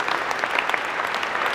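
Big audience applause at a corporate DubLi event, dense sustained clapping from a large crowd, even and continuous throughout.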